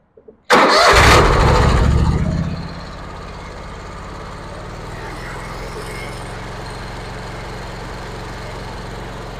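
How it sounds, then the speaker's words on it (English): A 2017 Vermeer SC362 stump cutter engine cranks and catches with a loud burst, then settles into a steady, close mid-pitched idle that runs on alone. "It's going to crank it up and let you see that all the functions work"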